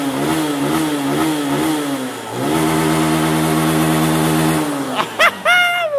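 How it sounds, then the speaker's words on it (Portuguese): A Honda Titan 160 motorcycle with a 5mm kit, tuned for ethanol with high-flow injector, revs up and holds a loud close engine note, drops back, then climbs again, before brief voices and whoops at the end. "Olha o giro do bagulho, galera,"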